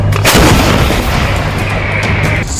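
Heavy artillery booms out as shells are fired, one big blast followed by a long rumbling roll that fades off, loud and close with no voices.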